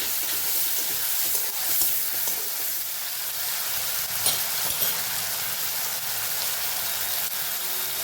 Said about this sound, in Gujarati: અહીં આપણે ટમેટાનું ઉમેરી દઈશું એને પણ સરસ સાંકળી લેવાની છે